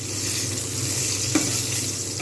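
Nigella seeds tempering in plenty of hot oil for a mustard-eggplant dish, an even crackling sizzle with one brief tap partway through, close and unbroken by speech.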